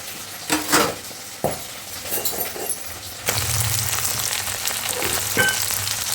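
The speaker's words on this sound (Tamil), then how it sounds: "இது வந்து எண்ணெயிலே நல்லா ஃப்ரை பண்ணணும்." Ginger, garlic, onion and green chili fry in oil in a pan. A few utensil clinks and stirring taps come first, then a dense, continuous sizzle takes over, close and fairly loud, with no talking.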